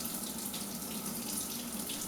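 Hot water runs steadily from a tap over a small mirror, a continuous hissing splash at moderate level with no voices.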